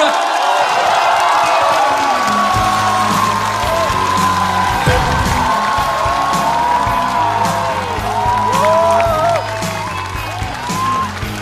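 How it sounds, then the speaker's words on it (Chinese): A stand-up comedy crowd erupts in loud applause mixed with cheering and whoops, a sustained roar with shouted voices rising and falling across the whole stretch. "掌声！"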